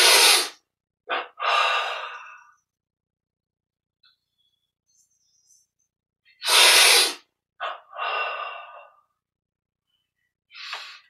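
Deep, forceful breaths during a yoga and meditation exercise, drawn in through the nose in several loud bursts separated by long silent gaps, close and alone.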